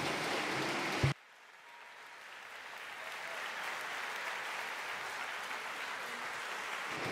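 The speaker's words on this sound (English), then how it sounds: "An applause." A conference audience at re:publica 2024 breaks into sustained applause, a dense even clatter of many hands that starts abruptly after a brief loud sound and holds steady for several seconds.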